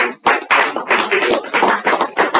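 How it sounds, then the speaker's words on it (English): A small group at a club meeting claps a round of applause, with close, loud, uneven bursts of hand claps for a couple of seconds and no talking. "I think we should give a round of applause for"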